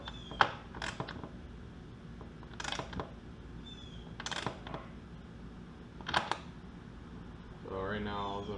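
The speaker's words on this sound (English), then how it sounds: "Right now all I'm doing is just tightening the bolt down, just getting it where it needs to be." Tightening a bolt on a wheelie bar, several short metallic ratchet clicks and clanks spaced a second or two apart, close up, with a brief voice at the end.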